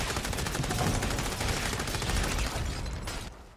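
Machine pistol fire in the video game Redeemer, a dense, loud run of rapid shots rattling almost continuously before tapering off near the end.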